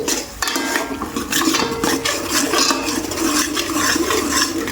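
Curry in a pot with water just added is stirred with a metal spoon, giving continuous close scraping and clinking against the pot and a faint wet sizzle beneath.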